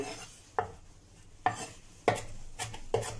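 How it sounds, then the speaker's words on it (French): A knife chopping fresh parsley and coriander together coarsely on a cutting board: five distinct, crisp thuds spaced unevenly, close and fairly quiet, with no talking. "On va venir tailler l'herbe aussi. Persil, coriandre, tout ensemble."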